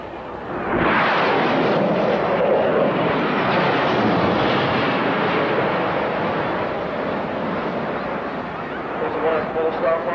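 A Lockheed F-104 jet fighter with a single General Electric J79 afterburning engine flies past at an airshow, a broad rushing roar that rises abruptly and then slowly fades while a commentator talks over it.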